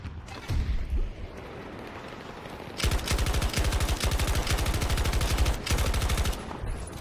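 Rapid bursts of LMG fire in Battlefield 2042, a short volley followed by a long sustained stream of close, loud automatic shots with a brief pause before a final burst.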